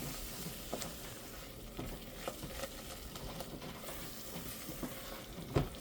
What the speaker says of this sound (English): At this point, we're kind of sauteing this paste.